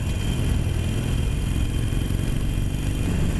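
Several motorcycles ride together in a group through a roundabout, their engines giving a steady, close, mid-pitched drone with wind rush and no talk over it.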